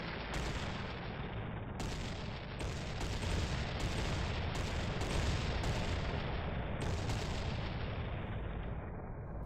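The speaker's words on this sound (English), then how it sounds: "both sides engage in a counter-barrage" Artillery counter-barrage at a battle reenactment of the English Civil War Battle of Cropredy Bridge, with cannon and musket fire. Dense, continuous rumbling volleys carry sharp cracks throughout, loud and sustained with no talk.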